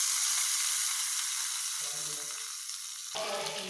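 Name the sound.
tempering sizzling, added to coconut chutney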